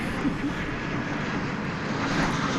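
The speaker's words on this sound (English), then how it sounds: "Here comes a flight from Chicago we specified a moment ago" An airliner passes at DFW Airport, a loud steady roar of jet engines heard from nearby outdoors, holding constant across the short moment.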